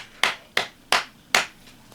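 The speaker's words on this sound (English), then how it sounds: "5 out of 5 claps." Four sharp hand claps, evenly spaced and fairly close, each with a quick attack and short fading tail, with nothing else audible.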